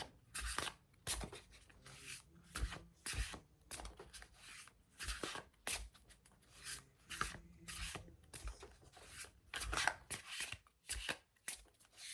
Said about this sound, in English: I just feel like I want to shuffle and get another one.